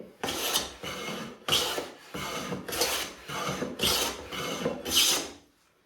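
A hand plane fitted with a dulling indexable carbide blade is pushed across wood in about eight rhythmic rasping strokes, each a short scraping pass with brief pauses between, close and clear.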